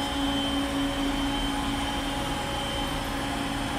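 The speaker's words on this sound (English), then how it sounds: "Let's go ahead and get the pump started." Hydraulic pump of a rebuilt 60K (300 kN) Tinius Olsen Super L tensile testing machine running steadily, a constant mechanical drone with a fixed tonal hum, close and even throughout with no talk.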